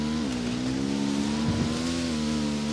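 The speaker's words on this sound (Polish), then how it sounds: "Czy mój motocykl nie skręca w lewo?" A motorcycle engine drones steadily in the video game Ghost Recon Wildlands, holding a sustained revving hum for a few seconds with a brief dip in pitch.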